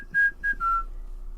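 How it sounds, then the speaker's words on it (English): A person whistling three clear, sustained melodic notes of the Confederate anthem, slightly falling in pitch, close and alone over a quiet low hum. "Whistle the Confederate anthem here."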